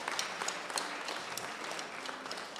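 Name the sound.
congregation applauding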